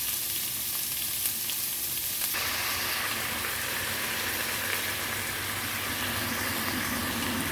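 Ground meat frying in a pan for a cabbage torta dish, a steady loud broadband sizzle running throughout with a brief shift in texture early on as the meat hits the hot oil, no voices.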